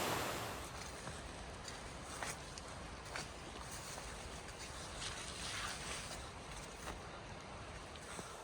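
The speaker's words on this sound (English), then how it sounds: "Obviously that is a waterfall" Steady, broadband rush of a waterfall heard outdoors at a campsite area, faint and continuous with slight swells, no voices.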